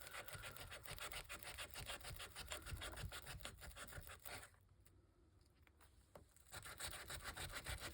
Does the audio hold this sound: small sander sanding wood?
yes